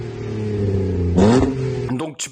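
A Renault Espace 4 with a V6 engine and a free-flow exhaust holds a deep, steady drone, then revs sharply close by before dropping away at the end.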